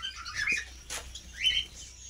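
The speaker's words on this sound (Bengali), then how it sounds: "এই যে সেই পাখিগুলো, আর এখানে আছে আমার বেঙ্গলি কিছু, এখানে একসাথেই রাখা আছে।" Caged Bengalese finches give a few short, high chirps and tweets, spaced irregularly over a quiet background, close by with no voices.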